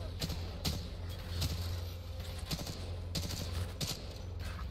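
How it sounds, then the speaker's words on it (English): Machine gun fire in the video game Titanfall 2 comes as repeated sharp bursts of shots spread across the clip, loud and close over a steady low rumble of game background. "I'm trying to snipe with the machine gun when I have this thing."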